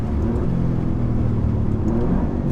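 Alfa Romeo Giulia QV with its 510 hp engine running hard, a steady, loud low rumble and whir with no break, as if heard from inside the moving car.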